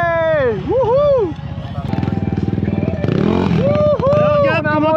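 Motorcycle engines revving and rising in pitch at an FMSQ cross-country moto race in Mont-Laurier, a loud nearby burst with a second rev climb, under excited voices and cheering.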